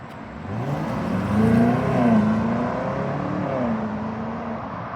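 A 2026 BMW X5 M60i midsize SUV with a V8 accelerates in sport mode, its engine note rising and shifting through gears in a smooth, steady drone heard from inside the cabin, with no talking.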